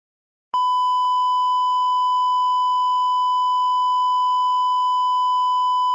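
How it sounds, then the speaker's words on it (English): A steady, loud electronic censor beep starts abruptly and holds one unbroken pure tone for several seconds, alone with nothing else audible. "I had to put the censor beep out there"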